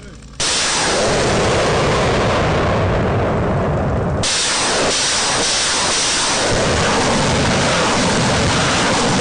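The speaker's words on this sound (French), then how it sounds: "L'artillerie est mise à contribution et la base est détruite depuis des kilomètres." Artillery fires on a suspected base, a loud sudden roaring blast that surges into a long, harsh hissing rush and keeps rumbling without letup.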